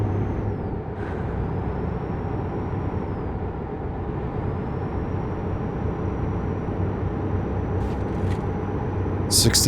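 Steady low diesel truck drone with road rumble from an American Truck Simulator rig cruising a two-lane Texas highway near Houston, continuous and fairly loud, with a brief hiss at the end.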